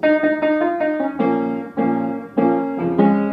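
A few piano chords ring out in sequence, sustained and fairly loud, changing every second or so with no voices.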